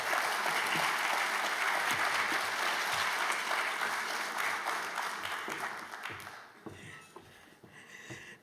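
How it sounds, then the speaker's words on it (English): A conference audience at a museum awards event gives a speaker warm, dense applause that holds steady, then thins into scattered individual claps before fading out. "I would like to have a warm applause for Catherine Blasman, Director of the Museum."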